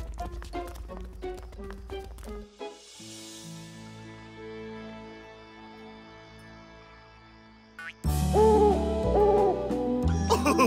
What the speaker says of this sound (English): That's just a dodo owl. That's the sound they make at night.